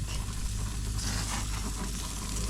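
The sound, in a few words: bacon frying in a pan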